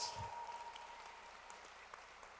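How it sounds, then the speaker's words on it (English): Applause from an audience at an Apollo 16 45th anniversary event, a steady, fairly faint wash of clapping lasting a couple of seconds with no voices over it. "You want is that enough applause for you?"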